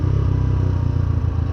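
A medium engine hums steadily and close during a rev-matched downshift, a low throbbing drone with slight pulsing but no sharp rise in pitch.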